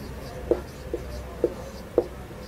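Pen writing out a math solution on paper, four soft separate strokes spaced out over a quiet background hum.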